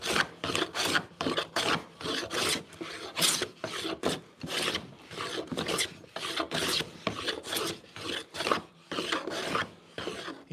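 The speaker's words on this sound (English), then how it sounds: "And I think it's still going to remain planing in this direction." Repeated hand plane strokes across figured wood, each a rough rasping scrape lasting under a second, at a steady back-and-forth rhythm, close and fairly loud, with no talking.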